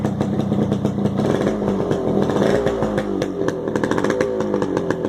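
A cold Yamaha RXS 100 two-stroke motorcycle idles after three months unused, a close, uneven buzzing putter with rapid popping firing pulses and a slight bottom-end grumble, heard alone with no talk.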